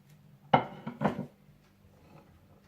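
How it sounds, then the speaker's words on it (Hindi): Chickpeas and potatoes mixed together in a serving dish, giving two distinct knocks and scrapes of a utensil against the dish, close and fairly quiet, with near silence around them. "इसके बाद आप डिश में चने और आलू मिलाकर रख लीजिए।"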